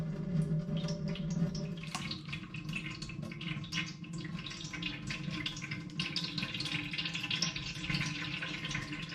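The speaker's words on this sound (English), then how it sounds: "And you can hear the liquid very easily dripping through." Steamed, pressed homegrown apple juice drips through a strainer into a collecting vessel, a continuous soft patter of drops and trickling liquid, close and steady throughout.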